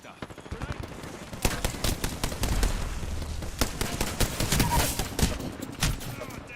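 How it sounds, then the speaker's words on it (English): Rapid gunfire in the video game Nightmare Reaper, dense volleys of sharp shots and bursts crackling close and loud, with a voice talking faintly underneath. "I am taking fire, friends. I'm taking shots."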